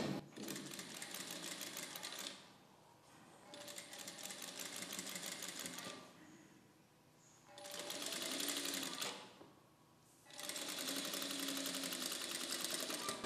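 Sewing machine stitching a dress sleeve, running in four bursts of rapid whirring stitches separated by short pauses, fairly close with no talking over it.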